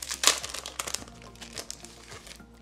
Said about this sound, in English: There's also one more little sheet to take off of these.